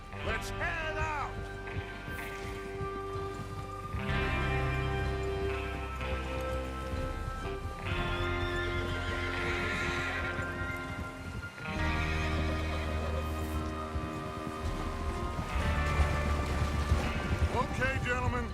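Horses in the video game Red Dead Redemption 2 whinny and snort repeatedly over clopping hooves and rustling movement, with people talking intermittently in the background.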